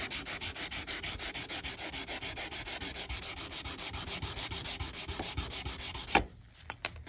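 Hand sanding of stainless steel car trim with 600-grit sandpaper, a steady rhythmic back-and-forth rasp of quick even strokes, close and continuous for about six seconds before stopping abruptly, leaving a few faint handling knocks.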